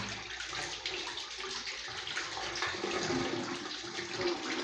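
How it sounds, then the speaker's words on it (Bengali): Water gushing out of a top-load semi-automatic washing machine as it drains, a loud continuous rushing flow close by, without a break. "জলটা বেরিয়ে গেল।"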